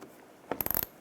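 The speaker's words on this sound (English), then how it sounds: "you can take this bolt out right here, use a T20 socket." A ratchet fitted with a T20 socket loosens a bolt on a 2008-2016 Chevrolet Cruze, giving a quick run of about six close, light metallic clicks after a single knock, near and fairly quiet.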